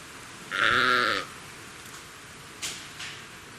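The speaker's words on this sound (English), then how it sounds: "I'm just hanging out with PB's sheep and a couple of llamas." A single sheep gives one clear, close bleat of under a second, followed by a couple of faint knocks and rustles in an otherwise quiet outdoor setting.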